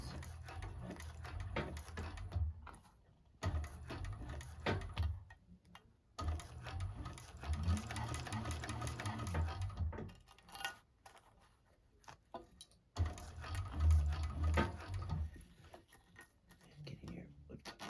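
A 1341 cylinder arm sewing machine basting fabric for a bag, running in bursts of steady mechanical ticking and whirring with low motor hum, separated by short pauses as threads are pulled.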